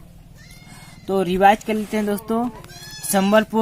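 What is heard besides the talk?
baby goats bleating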